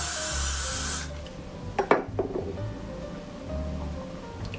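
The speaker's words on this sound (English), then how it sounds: "So give that a spray." Hairspray sprayed onto long hair during a 1940s roll updo, one sustained hiss lasting about a second, followed by faint handling rustles and light taps.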